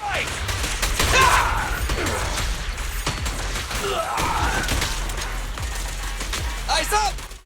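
Billy's rapid gunfire in Zenless Zone Zero, sounding as a dense, continuous volley of shots hammering a boss, with bursts swelling and fading over the length of the clip.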